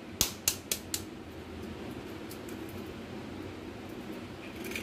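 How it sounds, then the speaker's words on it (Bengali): Eggs cracked into a small bowl with a little salt: four quick, sharp taps near the start, then only a faint steady room hum. "এবার ডিমগুলোকে ফাটিয়ে নেব"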